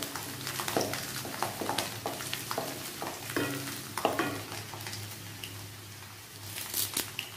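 Garlic frying in oil with fenugreek, a steady sizzle broken by repeated scraping stir strokes and crackles, with a low hum running underneath throughout.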